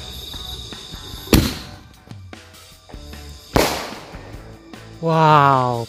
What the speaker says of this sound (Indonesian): selanjutnya kita nyalakan mercon bola launcher